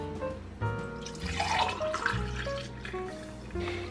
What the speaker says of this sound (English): Once it's minty enough, we're going to pour it in.